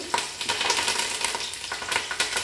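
Onions, garlic and curry leaves frying in a pan give a loud, close, continuous sizzle broken by rhythmic stirring scrapes, with no talk.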